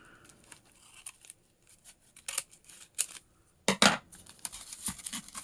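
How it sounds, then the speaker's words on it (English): Scissors snip and cut through packaging during an unboxing, with scattered sharp clicks, tearing and crinkling bursts that grow louder and denser near the end, close by and without speech. "Let me get my scissors."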